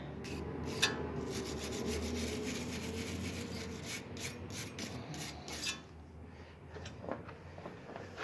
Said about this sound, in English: I'll give it a scrub down.